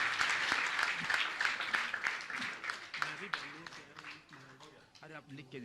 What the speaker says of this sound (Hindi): आप तालियों का अवदान देकर के सम्मान कर दीजिए बंधु।